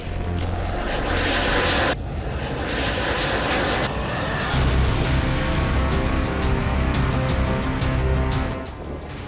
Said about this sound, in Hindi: अब अमेरिका ने फाइटर जेट की स्क्वाड्रन मिडिल ईस्ट में भेज दी।